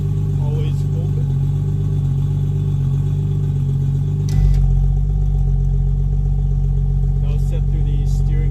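Car exhaust with JB4-controlled valves held always open drones at idle, then jumps to a deeper, louder rumble halfway through and holds there, close and steady.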